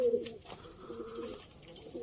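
Soft, low pigeon coos repeat faintly against a murky background, with a brief higher note at the start.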